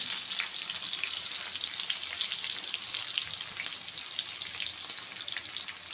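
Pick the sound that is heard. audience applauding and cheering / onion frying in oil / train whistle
onion frying in oil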